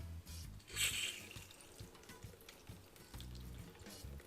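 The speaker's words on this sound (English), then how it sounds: "Then open up the water." Water runs from a Lifesaver Liberty water filter in a faint, quiet trickle, with a light splash near the start and a soft low hum beneath it.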